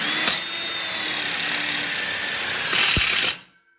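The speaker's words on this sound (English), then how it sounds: "But now we're gonna screw it in." A power screwdriver drives a screw into a ConnecTube with a steady, close mechanical whir, rising briefly in pitch near the end before stopping abruptly.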